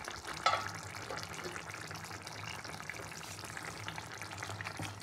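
Vegetables sizzle and fry in a pan while being stirred, a steady crackling hiss with a brief clatter of the spoon near the start, close and continuous without talk.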